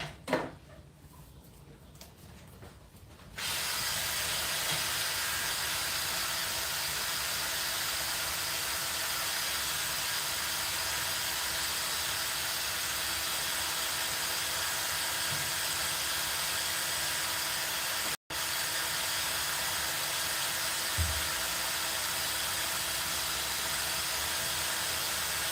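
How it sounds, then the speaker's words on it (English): Hairspray from an aerosol can hisses in a long continuous spray, broken only by a brief cut, after a few seconds of quiet handling noise in a bike workshop. "Alright, hairspray."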